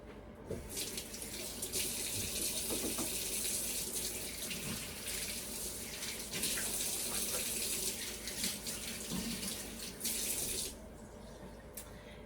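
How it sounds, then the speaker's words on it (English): A kitchen tap runs steadily while hands are washed under it. The gushing, splashing stream is continuous and close for most of the clip, then cuts off near the end. "Let me wash my hand."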